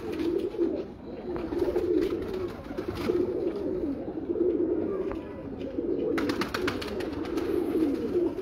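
Golden pigeons coo repeatedly in soft, rolling low phrases close by, with the coos coming in steady waves and faint bird chirps and clicks around them.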